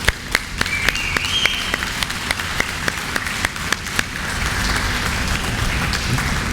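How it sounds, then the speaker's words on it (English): At a fire station ribbon-cutting event, a small crowd claps for the firefighters. Sharp, separate claps land in a loose rhythm over steady background noise, thinning out toward the end. "I personally want to thank them all and give them a round of applause"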